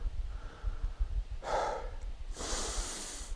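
Heavy breathing of a walker pausing to rest on an outdoor walk: close, audible breaths with two strong, hissing exhales near the end, and no talking.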